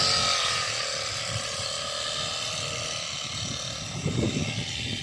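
A petrol grass cutter runs steadily in a mixed-farm garden orchard with mango trees, its engine drone constant and fairly loud, with a slight rise in intensity near the end.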